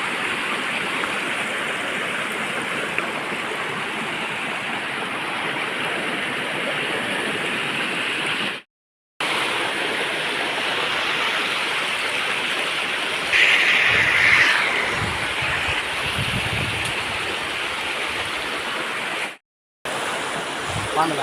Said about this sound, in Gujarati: તો જંગલની વચ્ચોવચ્ચ આ છે અદ્ભુત પાણીનું ઝરણું.